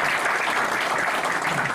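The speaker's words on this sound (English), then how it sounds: "It's okay to give him another round of applause." An audience claps in a dense, even burst of applause that fills the room, brief and loud with no voice on top.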